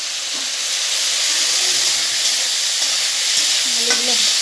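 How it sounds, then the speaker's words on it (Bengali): Potatoes and onions frying with black cumin in hot oil, a dense continuous sizzle close up with faint occasional stirring knocks beneath it, no voices. "আলু আর পেঁয়াজ একসাথে ভাজছি কালো জিরা সম্বার দিয়ে"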